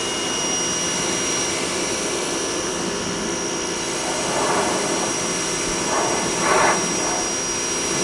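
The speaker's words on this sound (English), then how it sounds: "All these passages open up and carbon gets blown out." Compressed air hisses steadily through the passages of a Detroit DD15 one-box DPF filter, blowing carbon out in a continuous rushing blast with a few brief louder surges.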